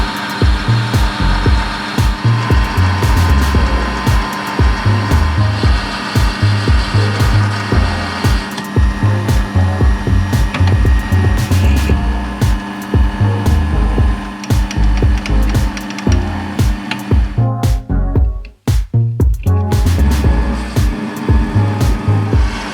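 Lathe work turning down a switch shaft for a 1955 EKCO U245 valve radio under restoration, a loud, steady machining whir with rhythmic cutting chatter that briefly cuts out near the end before resuming, with no talking.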